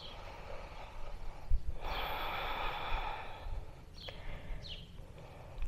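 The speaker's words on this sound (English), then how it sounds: "Keep breathing in and out through the nose." A person breathes in and out through the nose during a vinyasa yoga flow, with close, airy inhales and exhales and slight snorting textures, no talking.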